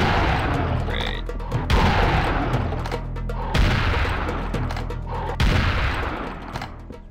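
Gunfire bursts from the Serious Sam first-person shooter in a residential area, four heavy booming volleys spaced about two seconds apart, each a loud broadband blast over a dense, continuous rumble of game noise.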